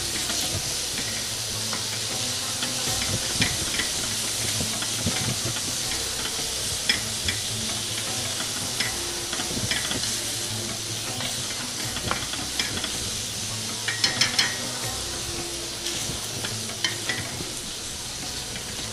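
Cubed chicken pieces frying in a hot pan give a steady loud sizzle with hissing steam, broken by scattered scrapes and clicks of stirring throughout, with no voices.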